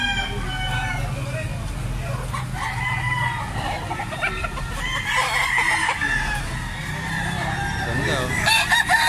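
Roosters crow and chickens cluck at a busy poultry sale in the Philippines, with people talking nearby and the birds calling repeatedly over the din.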